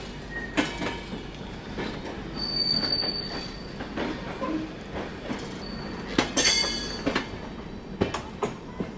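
The Kota Patna Express pulls into a station with its wheels squealing in high, drawn-out shrieks over rumbling, clicking railcars, moderately loud and close.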